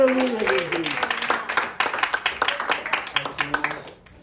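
A church congregation applauds during an evening worship service while a preacher's voice carries over the start, followed by rhythmic, evenly spaced claps that continue strongly before tapering off.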